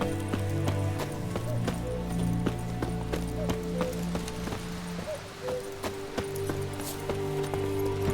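Horse hooves in Witcher 3 clop in a quick, steady galloping rhythm, moderately close, over a low sustained musical drone.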